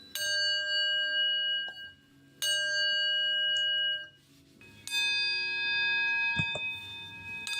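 Handheld bells ring in separate struck notes, each bright tone hanging with a long clear decay. About four strikes come at intervals, the later ones overlapping into a fuller chord, with no voices.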